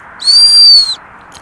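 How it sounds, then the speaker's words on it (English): One loud, steady, high-pitched whistle blast lasting under a second, sharp and close, then quiet. "we give her the whistle"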